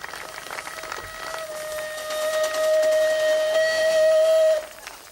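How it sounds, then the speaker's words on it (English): Steam locomotive number 12 on the Swiss Brünig line sounds a long, sustained whistle that swells louder midway, with steam hissing around it, then cuts off abruptly. "a new steam locomotive, number 12, was commissioned"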